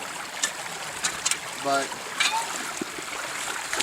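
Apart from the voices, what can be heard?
shallow stream water flowing over sluice box riffle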